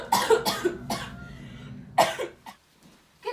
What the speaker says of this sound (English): I've had this really bad cough